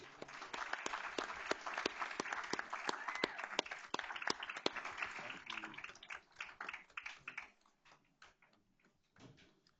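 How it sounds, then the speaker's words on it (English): A school board meeting audience claps for a student choir after their songs. The applause is dense and steady for about six seconds, then thins to a few scattered claps that fade out near the end. "Let's give them one more round of applause."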